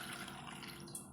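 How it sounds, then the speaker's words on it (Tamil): A small amount of water is poured over cut drumstick pieces for a Kerala-style drumstick thokku, making a soft, steady trickle and splash that runs close and fairly quiet for about a second. "கொஞ்சமாக தண்ணி சேர்த்துட்டு"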